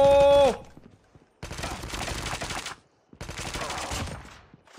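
T25 rifle fire in Call of Duty Mobile, two sustained bursts of rapid automatic gunfire, each lasting over a second, loud and close, after a short tonal game sound, with silent gaps between.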